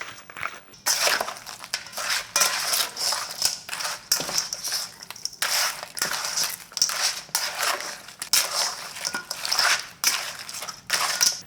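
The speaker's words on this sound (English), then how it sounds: "Just mixing." Soy sauce, cane sugar and seasoning being stirred together in a bowl, a close, steady run of scraping, clinking strokes with a brief pause near the start and no talk.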